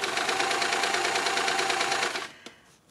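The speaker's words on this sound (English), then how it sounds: "So it's going to stitch the ends of the bag together" An overlocker sewing machine with two needles stitches the ends of a bag, a fast, even mechanical chatter running loud and close for about two seconds before it stops, leaving a single small click in the quiet.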